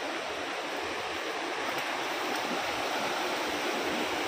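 Rushing water from the waterfall and stream at Sikhar Fall near Dehradun, Uttarakhand, a steady close, loud roar of broadband noise with no break throughout.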